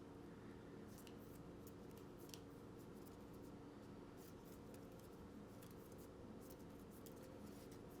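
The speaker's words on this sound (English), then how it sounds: "I'm just shuffling the disorder deck." Playing cards from a disorder deck for the board game Kingdom Death: Monster get shuffled close up, a soft papery riffling with repeated quick flicks and rustles, very faint and without talk.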